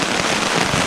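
Heavy rain pounding steadily on a tarp beside a lake, a dense, continuous broadband hiss and patter, loud and close, with no gaps or talk.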